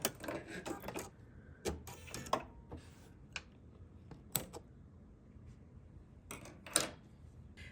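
A sewing machine with an open-toe embroidery foot and circular attachment stitches in short, quiet mechanical bursts, stopping and restarting several times while back stitching, with near-silent pauses between runs.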